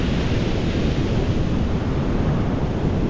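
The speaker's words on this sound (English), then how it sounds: "the rhythmic sounds of the ocean waves" Ocean waves make a loud, constant rushing surf wash, close to the microphone, with wind buffeting mixed in and no voices.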